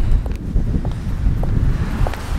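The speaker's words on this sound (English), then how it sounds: "It's a little windy out today." Wind buffets the microphone outdoors in a park with a constant low rumble and occasional faint ticking sounds.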